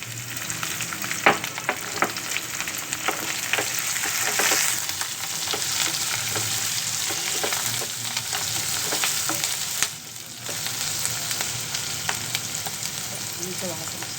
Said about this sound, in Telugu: ఇప్పుడు ఎల్లిగడ్డలు పేస్ట్ ఇట్లా చేసుకొని పోపు చేసుకోవాలి